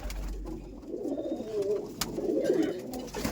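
Flying pigeons in a loft in Behala coo in soft, low, rolling bursts, fairly close and steady across the stretch, with faint room noise behind and no talk.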